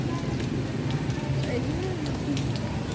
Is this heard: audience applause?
no